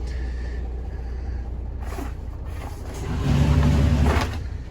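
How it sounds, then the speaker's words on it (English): A bow thruster runs on a Mikelson Nomad boat, a low rumbling mechanical drone that swells louder toward the end, heard without talk. "That noise was our bow thruster."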